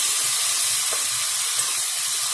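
Tomato sauce and rice fry in a pan for Spanish rice, giving a steady loud sizzle and hiss with soft stirring scrapes in a repeating rhythm.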